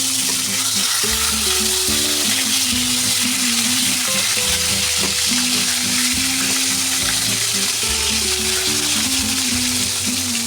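Steady, loud sizzling of eggplant slices frying in hot oil fills the whole stretch, with a low droning hum underneath and no talking.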